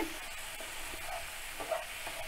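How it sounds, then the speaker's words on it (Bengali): Garlic and ginger paste fries in oil with a faint, steady sizzle and a few soft stirring scrapes, close by with no voices. "তেলের সাথে রসুন এবং আদার পেস্টটাকে ভালোভাবে কষিয়ে নেওয়া হচ্ছে"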